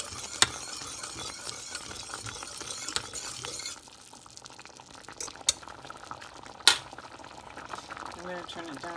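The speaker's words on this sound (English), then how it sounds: "I will need to continue to boil this and stir it to prevent it from sticking." Tapioca pearls boiling in a pot of water while being stirred, a steady bubbling with spoon scrapes and occasional clinks against the pot, under a person talking.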